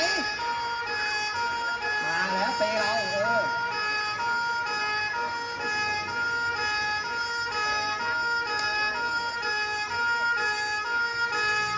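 An ambulance siren at the Safari World monkey show in Bangkok wails continuously with a steady tone, loud and close, while a person talks briefly over it early on.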